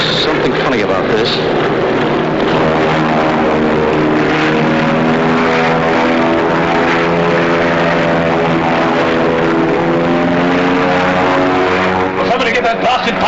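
A propeller airplane engine drones steadily and loudly as the plane takes off, holding a sustained rising hum throughout while people talk over it.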